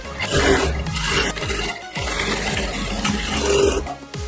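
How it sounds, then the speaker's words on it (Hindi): A sewing machine runs in loud, close bursts while stitching the shoulder seam of a blouse, its rapid mechanical chatter pausing briefly twice before starting up again. "अब यहाँ पे मैं शोल्डर की सिलाई लगाऊंगी।"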